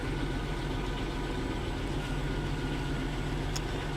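A 1998 Chevy Lumina engine idles after being started, a steady low rumbling drone with constant loudness throughout and no voices.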